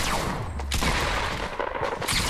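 Sustained Fortnite gunfire in a video game fight, dense bursts of rapid shots and blasts running throughout, loud and close with no talk over it.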